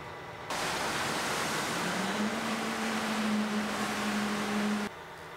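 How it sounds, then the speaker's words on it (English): A fire truck's deck gun, a crossfire nozzle with no hose attached, opens with a sudden steady roar of spraying water. The rush holds loud and even for about four seconds and cuts off abruptly, with a faint pump tone rising underneath. "Let's open the deck gun."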